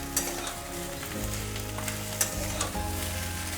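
Food stirred and fried in a pan for a potato-free fish-head rice dish sizzles steadily up close, with scraping spatula strokes and occasional sharp clinks against the pan.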